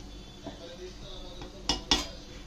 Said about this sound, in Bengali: এখন আরেকবার নেড়ে চেড়ে নিচ্ছি